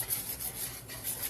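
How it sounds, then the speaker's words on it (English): A spoon stirs cocoa mixture in a pot, soft scraping and rubbing strokes in a quick repeating rhythm, faint and close, with no talk. "Let's stir our cocoa."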